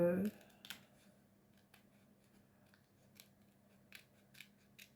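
A small pair of tweezer scissors is handled up close, giving a sharp opening clack and then a scattering of faint, light metallic clicks and snips in a quiet room.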